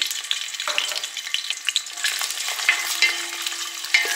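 Onions frying in oil with cardamom and spices for Guntur-style khichdi, a steady close sizzle with scattered crackles and pops running throughout, no voices.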